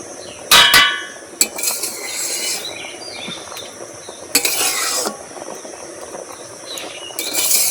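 Pots and utensils clink and scrape in a home kitchen as moong dal is set to boil, with sharp metallic knocks and short scraping bursts over a steady background hiss from the stove.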